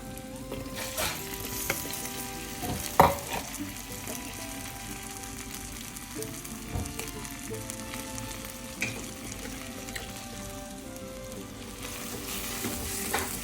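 Bitter gourd sautéing in a pan with curry leaves and salt, a steady close sizzle and fry with occasional scrapes and stirring knocks throughout.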